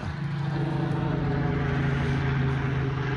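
A large helicopter flies overhead outdoors, a steady low droning rotor and engine hum that rises quickly and then holds loud and even.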